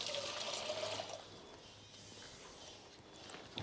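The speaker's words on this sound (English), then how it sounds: "I'll grab a bit of water just to rinse that off." Water poured from a container to rinse brake parts on a 2005 Skoda Fabia 1.2 petrol during a front disc and pad replacement, a steady close splashing stream that tapers off.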